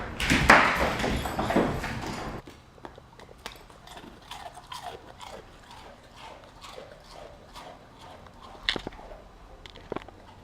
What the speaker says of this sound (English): Isn't that the best sound ever? The sound of a dog crunching on a cracker.